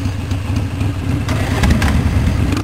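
A 2010 Suzuki Intruder 1400cc motorcycle engine idles nearby with a deep, even, throbbing rumble that stays steady and close, then cuts off abruptly at the end.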